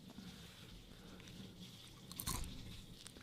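A live cricket is bitten and chewed, giving a faint, close crunch that peaks sharply once near the end of a quiet stretch of soft mouth sounds.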